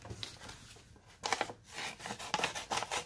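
Scissors or a blade trimming the edges of coffee-dyed paper for a journal page, a few close dry rasping strokes in short bursts.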